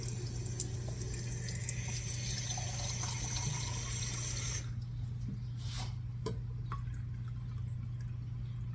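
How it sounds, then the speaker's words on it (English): Cold water runs steadily from a kitchen tap into a measuring cup for a homemade vinegar and safflower oil mixture, a continuous hiss over a low hum that stops abruptly partway through, followed by a few faint clinks. "And you're going to add cold water."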